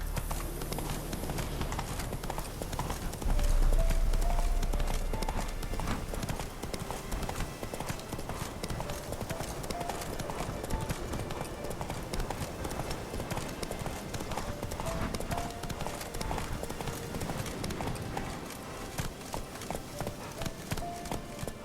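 Roach, a horse in The Witcher 3, gallops in a steady rapid clip-clop of hooves throughout, with a voice speaking over parts of the ride.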